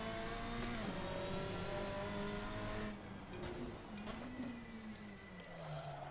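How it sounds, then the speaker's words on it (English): Car engine in the Assetto Corsa racing game revving high and steady, then briefly over-revving before the pitch dips and climbs again with gear changes, close and continuous with no talk. "Little over rev there"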